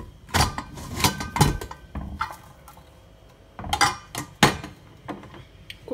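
A pressure cooker lid is handled and opened after cooking ash gourd: several sharp metallic clanks and scrapes of the lid and pot, close and distinct, separated by brief quiet pauses.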